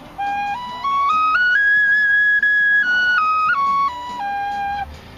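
A homemade mini flute plays a clear, pure-toned scale, stepping up note by note, holding the top, then stepping back down, loud and close with a slightly breathy edge and no talk.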